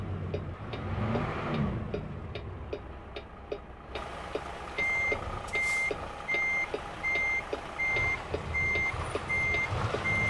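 Reverse alarm on a Peterbilt Model 579 truck backing up in American Truck Simulator, a run of evenly spaced beeps repeating over a low engine idle, joined by faint ticking clicks.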